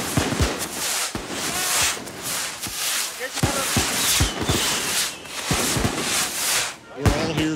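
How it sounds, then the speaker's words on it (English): Festival fireworks for the patron saint San Juan de Dios in Toltepec give dense, crackling bursts and sharp pops, with sustained loud crackle throughout. "Fireworks the way God intended them to be."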